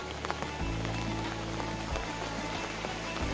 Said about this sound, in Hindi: अभी भी हो रही है बारिश यहाँ पर